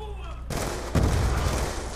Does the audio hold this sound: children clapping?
no